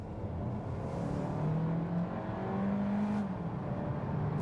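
A 2024 Kia Seltos SX Turbo AWD accelerating, a steady engine drone that climbs in pitch through the gears, heard from inside the car at moderate volume with no talking.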